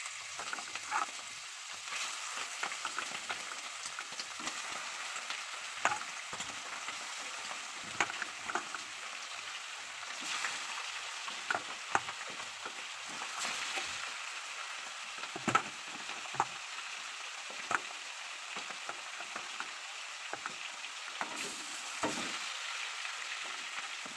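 Chicken pieces rubbed with salt and turmeric frying in a pan for palak butter chicken, a steady crackling sizzle with scattered louder pops and spits throughout.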